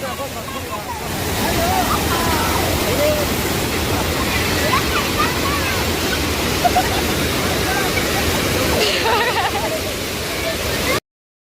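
Children playing in water, splashing it over each other, heard as a steady, loud wash of splashing and rushing water that runs through the whole stretch and cuts off abruptly at the end.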